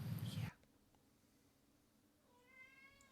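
A cat gives a short, rising meow near the end, quiet and close, after a loud burst of noise and a stretch of near silence.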